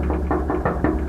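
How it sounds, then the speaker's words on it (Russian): Someone knocks repeatedly on a monastery door in Georgia's Svaneti region, near Ushguli. Several heavy, muffled knocks arrive in an uneven rhythm, loud and close, with no one answering. "что-то я стучу, никто не открывает"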